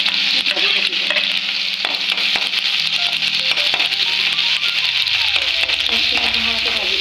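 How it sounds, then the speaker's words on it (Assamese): Chopped onion fries in hot oil in a wok, a steady loud sizzle running throughout, with occasional metallic clinks and scraping from stirring. "গৰম হোৱাত অকণমান পিঁয়াজ ঢালি কিনে ভাজি থাকিব"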